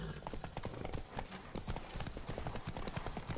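Horse hooves clip-clop at a steady walking rhythm in The Witcher 3, close and moderately quiet amid game ambience.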